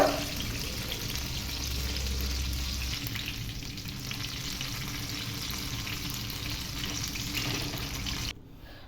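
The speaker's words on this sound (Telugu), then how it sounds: "ఈ విధంగా స్లో ఫ్లేమ్ కాకుండా మీడియం ఫ్లేమ్లో చక్కగా ఈ విధంగా ఉడకనివ్వాలండి" Guntur-style eggplant bajji fritters fry in hot oil over a medium flame, giving a steady, dense sizzle that runs close and even for several seconds before cutting off abruptly.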